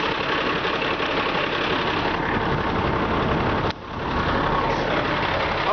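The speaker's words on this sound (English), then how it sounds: "You can hear this motor just purr. Very, very nice, smooth motor. Sits here, idles good." A 1989 GMC Brigadier rollback tow truck's engine idles in a steady, even rumble close by, with one brief dip partway through before settling back.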